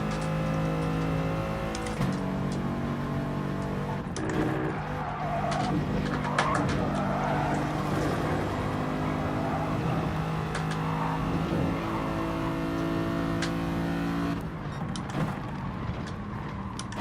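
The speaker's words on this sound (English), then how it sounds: "Now we're going to short shift a bit, pull off, so we can save some fuel." A Group 4 race car in Gran Turismo Sport runs at Dragon Trail, short-shifting to save fuel. The engine drones steadily with harmonic tones and shifts pitch at each gear change, sustained and fairly close.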